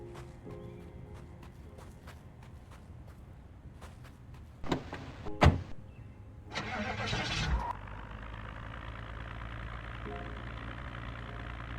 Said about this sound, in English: I'm gonna move this car into the parking lot